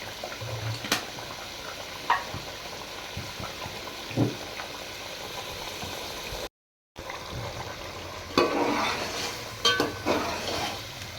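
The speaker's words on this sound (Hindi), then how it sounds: "इस तरह से हमने गोश्त और मसाले को अच्छी तरह से भून लिया है" Meat and spices for a chicken pulao frying and being stirred in a pot, with soft sizzling, scattered scrapes and clinks of a utensil against metal, and a louder, busier stretch of stirring near the end. No one speaks.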